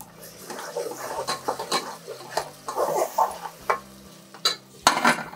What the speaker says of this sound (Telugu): ఇదిగో ఉల్లిపాయలు పచ్చిమిరపకాయలు పోసేసా